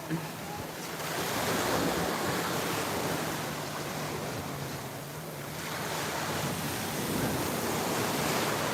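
Ocean surf washes onto a beach in the evening, a steady soft roar of breaking waves rising and falling gently, with some wind noise and no clear voices.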